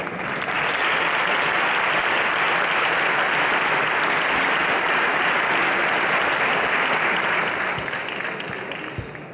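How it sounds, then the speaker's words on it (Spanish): Sustained applause from a large audience at a flamenco contest final in Leganés, loud and steady for several seconds before gradually tapering off. "Un aplauso para ellos."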